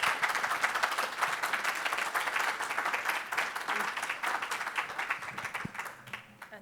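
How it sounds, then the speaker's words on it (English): Audience applause at the close of a session on transforming Chicago's O'Hare airport: broad, sustained clapping from a seated crowd that thins out and tapers off over nearly seven seconds. "If we could give one more round of applause."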